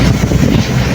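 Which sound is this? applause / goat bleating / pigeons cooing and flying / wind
wind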